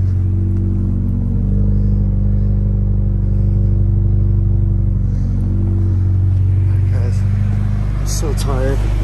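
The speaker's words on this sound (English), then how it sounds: "I have the remote start thing, so I started the car from inside the house and let it run for like 30 minutes" A car engine idles steadily after a remote start during a heavy snowstorm at Big Bear Lake, a continuous close low rumble that holds throughout, with a brief brushing or scraping sound near the end.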